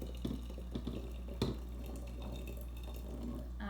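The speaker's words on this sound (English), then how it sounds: "So I'll go ahead and pour my hot water." Hot, steaming water poured into a beaker, a faint, soft liquid trickle with a few small splashes and one sharp clink near the middle, quiet overall.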